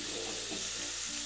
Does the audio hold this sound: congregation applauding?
no